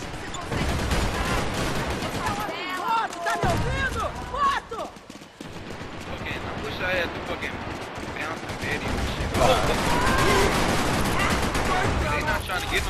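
Gunfire in a multiplayer shooter video game, rapid bursts of automatic shots with fusillade-like stretches, loud and mixed under someone talking over it.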